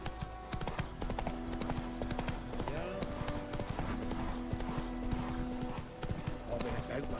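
Horse hooves clip-clopping steadily in The Witcher 3, a continuous rhythmic trot close by, with a voice speaking over the hoofbeats and a faint whinny-like tone in the mix.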